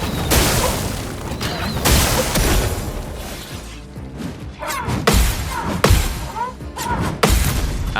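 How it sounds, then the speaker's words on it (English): Explosive attacks in the video game Clair Obscur: Expedition 33 erupt as a series of loud booms, crashes and shattering bursts, several heavy impacts spaced a second or so apart with softer effects between. "follow with a sack attack explosion"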